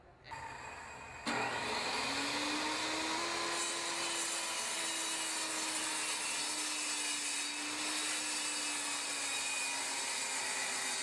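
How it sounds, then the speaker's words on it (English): A saw rips a board in half: after a short click and a quieter start, a loud, steady cutting whine runs continuously for about ten seconds with a faintly wavering pitch. No one talks. "we're going to go ahead and rip this in half."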